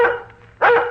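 A dog barks twice on an old radio show, close and clear, with a short pause between the two barks. No talk is heard over them.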